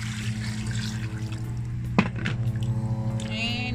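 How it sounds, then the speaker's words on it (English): Water is poured over raw chicken to wash it, giving a continuous splashing trickle close by with a sharp clunk partway through, over a steady background hum. "We're gonna put some water."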